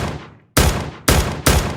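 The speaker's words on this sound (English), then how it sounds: "we hear the gunshot play" Three loud, sharp AK-47 gunshot effects played back in the Unity game engine, each a sudden full-band crack with a decaying tail, spaced roughly half a second apart and heard alone.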